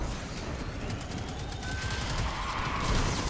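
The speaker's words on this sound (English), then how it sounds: "tank just shot me" Dense video-game combat in Destiny 2 as a tank fires on the player, a loud continuous barrage of blasts and crackling gunfire with bright streaking whines, no voices.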